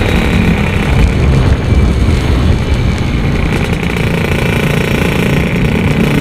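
Two-stroke motorcycle engine run on Castrol Active 2T oil, revved hard and steadily at close range, a loud continuous buzzing roar with no pause throughout.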